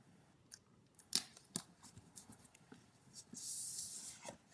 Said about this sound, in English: I'm just going to take some Scotch tape and put that right down